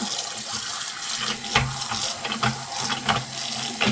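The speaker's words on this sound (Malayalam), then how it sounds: "സിങ്കിൻ്റെ അകത്ത് നമുക്ക് വെള്ളം നിറയ്ക്കാമെങ്കിൽ അങ്ങനെ നിറച്ചിട്ടിട്ട്" Tap water runs steadily into a sink to soak bottles and loosen their stickers, a close, continuous splashing rush with a few small clinks and bumps.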